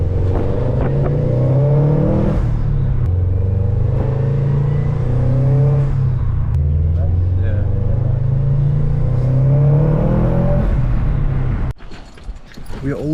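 A tuned Subaru WRX accelerates and revs up repeatedly, its engine note rising in several climbing pulls over a loud, continuous rumble before cutting off abruptly near the end.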